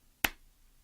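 A single sharp hand clap during a lesson on long-tone and fingering practice, brief, dry and close, with near silence before and after.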